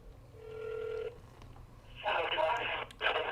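An outgoing scam call to a place in Texas rings through a telephone, a steady electronic ring tone followed by brief crackly line noise and voices at the other end.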